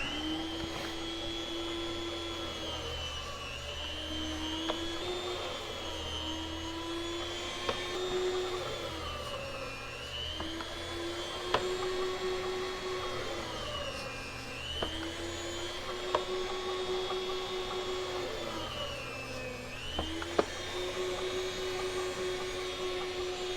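An electric meat slicer runs continuously, its motor giving a steady whine with a slowly wavering pitch, while occasional light clicks mark slices being cut for sandwiches.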